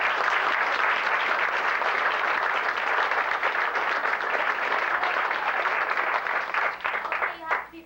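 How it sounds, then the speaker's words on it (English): A studio audience at a radio show applauding, a dense, sustained round of clapping that holds steady for several seconds before trailing off at the end. "everyone, give yourself a big round of applause."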